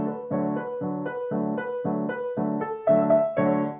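Piano riff of a pop song with steady left-hand quarter notes alternating against the right hand, bright repeated chords in an even rhythm, played close and alone.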